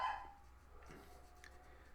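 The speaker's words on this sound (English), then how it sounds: "You guys get to listen to my dogs bark." Several dogs bark at a delivery or trash pickup, heard as a few short, fairly distant barks and yips spread across a quiet background.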